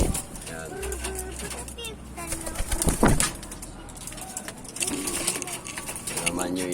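Pigeons in a loft coo and rustle softly, with a brief burst of wing flapping, while someone talks over them nearby.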